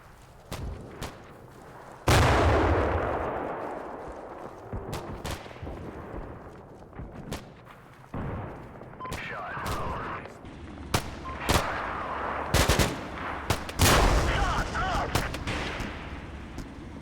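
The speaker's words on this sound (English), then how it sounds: "that disabled M901 is going to keep engaging that bunker on the North Bridge." Gunfire and booming impacts from a disabled M901 vehicle engaging a bunker on a bridge in the Cold War combat game Combat Mission, with repeated sharp loud bursts and heavy rumbling blasts over roughly seventeen seconds.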